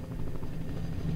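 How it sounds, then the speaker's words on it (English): Helicopter in film footage, a steady low rotor drone filling the short stretch, loud and continuous with no talk over it. "That's the chopper I was shooting through."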